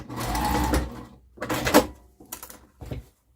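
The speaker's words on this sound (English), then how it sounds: "I'm gonna sew these two pieces together." A sewing machine joins two fabric pieces for an upcycled hot pad in a beginner project, running in a few short bursts of stitching separated by brief pauses.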